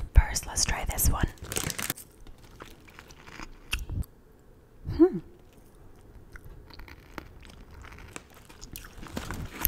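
Close-up crunching and chewing of 1UP freeze-dried candy, with irregular crisp bites and mouth sounds, mixed with soft whispered talk.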